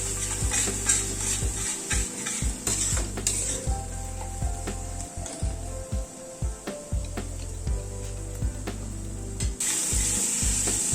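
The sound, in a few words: spice paste being sautéed and stirred in a pan on a gas flame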